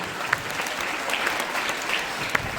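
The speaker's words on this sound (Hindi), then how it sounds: "एक बार जोरदार तालियां बच्चों को" An audience at a school prize event applauds loudly for fifth-grade students among the top ten in an exam, a steady wash of clapping with a few sharper individual claps standing out.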